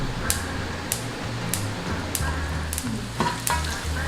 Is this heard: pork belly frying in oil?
yes